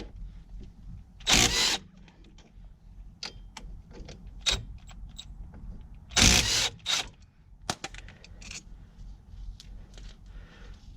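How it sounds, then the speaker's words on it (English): Power tool zipping off the 14mm caliper bolts during a brake pad job on a Chevy Cobalt, two loud drill-like bursts a few seconds apart amid lighter clicks and handling noises, with no talk. "take the 14mm and remove both of the caliper bolts"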